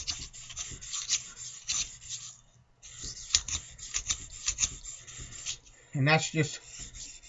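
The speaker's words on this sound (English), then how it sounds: "the stabilizer scraping" A honing stabilizer scrapes back and forth across a medium India oil stone in rough, rasping strokes of uneven loudness, with a brief spoken phrase over the grinding.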